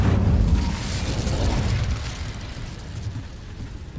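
The Incendio fire spell cast in the video game Hogwarts Legacy, a loud fiery burst with a low booming whoosh that fades over a few seconds.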